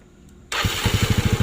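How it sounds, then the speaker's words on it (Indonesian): An old Yamaha Mio motorcycle engine fires up after a half-second of near silence, catching abruptly and settling into a loud, close, steady pulsing idle. "ini Mio lama. Kita coba nyalakan"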